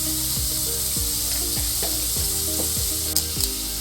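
Mushrooms sizzle and fry in a pan while a spoon stirs and scrapes through them, with regular knocks against the pan over a constant crackling hiss, close up and with no talking.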